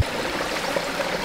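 A little stream on a homestead in Spain, steady broadband rushing and trickling water, close and continuous, with no voices.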